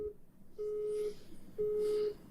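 A telephone call rings out as three short, faint tones, evenly spaced under quiet background noise, with no talking.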